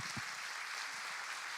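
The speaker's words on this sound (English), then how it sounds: "Would you clap your hands to the Lord?" Brief burst of clapping from a church or civic audience at a district attorney candidate forum, steady broadband patter across the short span with no voices.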